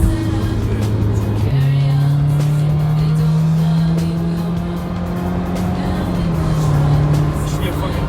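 A 2003 Honda S2000 with no exhaust fitted drones loudly and steadily while cruising, its engine tone shifting up after a gear change and then holding a raspy, even pitch throughout.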